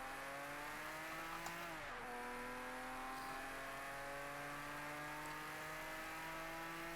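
A Porsche race car in Project CARS 2 pulls away in second gear, its engine note dipping on a gear change and then rising in a steady, strong drone with a brief tyre squeal, loud and alone.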